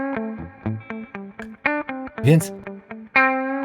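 Short synthesized or instrumental notes are heard first dry, then with reverb tails added, contrasting clipped sounds with ones that ring out; a brief spoken word appears.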